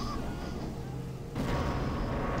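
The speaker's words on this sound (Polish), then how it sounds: "No i znowu się wybucha." A loud explosion bursts out partway through in the video game Prey, a sudden broad boom that follows steady rumbling background noise and lingers afterward.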